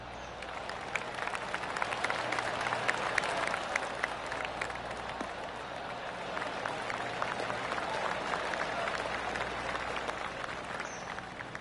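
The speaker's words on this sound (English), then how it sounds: "Oh, golf clap." Golf gallery applause in the PGA 2K25 video game, a steady wash of many hands clapping at moderate distance that holds evenly throughout without a clear peak, with no voices over it.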